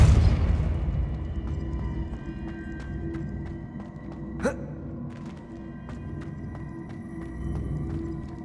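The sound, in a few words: Accio and Depulso spell effects in Hogwarts Legacy video game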